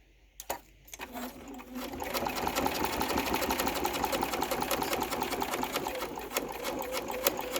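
Sewing machine stitching a vinyl card wallet, a quiet rapid mechanical rattle that starts after a second of small handling clicks and then runs steadily close up.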